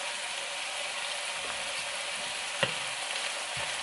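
Chili, garlic, ginger and green onion sauteing in hot oil for a stir-fried eggplant and beef dish, giving a steady close sizzle and hiss with a few light clicks of a utensil stirring.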